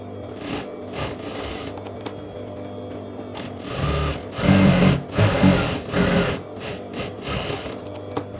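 A sewing machine stitching lehenga lining runs in repeated rhythmic bursts, a close, fast mechanical clatter starting and stopping several times with short pauses between.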